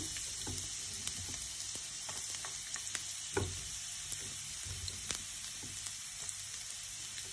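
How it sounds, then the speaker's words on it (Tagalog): Garlic fries in hot cooking oil with a steady close hiss of sizzling, broken by small pops and stirring clicks. The sound is faint overall and no one talks. "Mainit na at lagyan na natin itong bawang."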